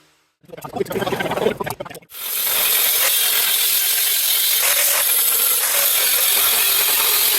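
Tabs being cut from steel flat strap with a power tool, a short rough burst of grinding followed by a loud, steady high-pitched cutting whine that runs to the end.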